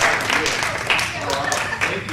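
An audience at a job-offer talk gives a round of applause for a guest speaker, a steady wash of clapping filling the room, with some voices mixed in underneath.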